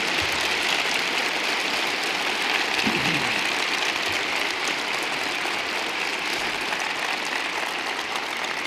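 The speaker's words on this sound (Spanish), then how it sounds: "Un aplauso, por favor, para Inés y todo su equipo que están aquí con nosotros." A crowd at a Ciudadanos general-election campaign rally in Oviedo applauds Inés and her team, a steady, fairly distant wash of clapping that continues evenly throughout with no voices over it.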